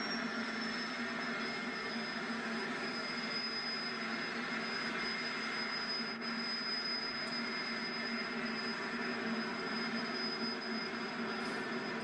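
A jet funny car's jet engine runs at a drag strip, a steady continuous roar with a high whine held throughout, fairly distant and unbroken, with no voices.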